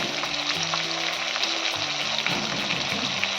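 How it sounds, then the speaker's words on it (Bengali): Bengali spice paste of ground coriander, cumin, chopped green chillies and ginger paste frying steadily for beetroot dhokar dalna, a continuous close sizzle with faint stirring and no talk. "ভালো করে আমি মশলাটাকে কষিয়ে নেব"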